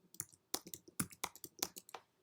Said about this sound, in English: inside that we have to type double dash then incognito